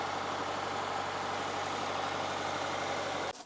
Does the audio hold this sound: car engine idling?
yes